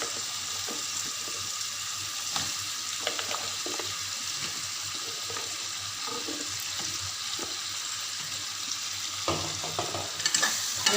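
Okra frying in a pan while being stirred, a continuous soft sizzle with scraping stir strokes recurring irregularly, fairly quiet and close with no talking.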